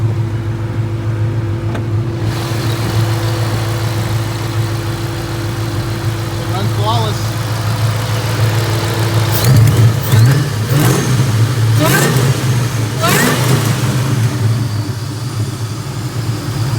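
A Ford SVT Cobra "Terminator" engine runs with a steady idle throughout, picking up a few quick revs in the second half, with a slight header gasket leak; a voice talks briefly over it.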